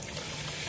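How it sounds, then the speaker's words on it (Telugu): Water poured into a pan holding half a kilo of sugar on a stove, a brief steady splashing hiss close by, with no voices. "ఇది పొయ్యి మీద పెడతాను, నీళ్లు పోస్తున్నానండి."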